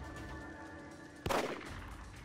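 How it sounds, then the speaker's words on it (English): A single Magnum revolver shot fires in the horror video game The Evil Within, one sharp, loud blast with a brief decaying tail over a quiet, humming background. "Oh, the Magnum. Forgot about this. I'm gonna get one shot."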